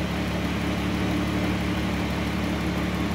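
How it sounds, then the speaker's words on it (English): Air-conditioning compressor running on a 2012 Chrysler Town & Country, a steady close engine hum with a low continuous drone and no variation. "Meanwhile, the compressor is still running."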